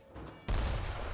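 Cannon fire in Age of Empires 3, a sudden loud boom that cuts in over quieter battle ambience and rumbles on through the rest of the moment.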